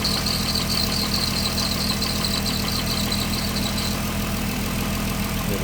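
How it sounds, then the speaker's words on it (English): A brand-new serpentine belt whines on a running VW 3.2 VR6 engine swapped into an MK2 Jetta coupe: a steady high whine rides over the constant idle rumble, loud and close, with no talking. "This freaking belt just keeps whining and whining."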